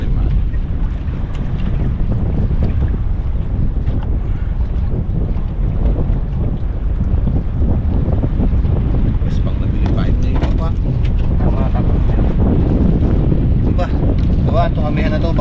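Strong amihan northeast monsoon wind buffets a fishing boat at sea, a loud continuous roar and rumble of gusts against the microphone, with water and hull noise mixed in throughout.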